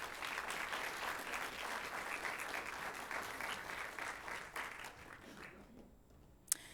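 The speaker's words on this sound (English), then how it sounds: "Give them a warm round of applause." An audience at a live panel event on race and identity applauds as the panel comes on stage, a full sustained round of clapping that fades out after about five seconds.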